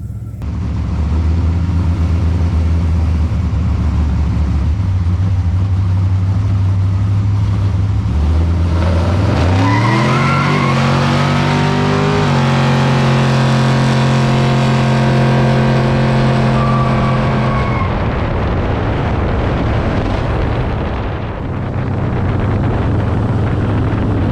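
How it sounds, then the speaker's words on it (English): Drag race car doing a burnout at Bristol Dragway during Drag Week, a loud, steady engine roar that climbs sharply in pitch partway through, holds at high revs, then drops back, with heavy wind buffeting throughout. "And now you get to do a second burnout."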